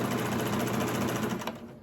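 A serger sewing machine runs a stitch in a fast, even mechanical whir close by, then stops abruptly near the end.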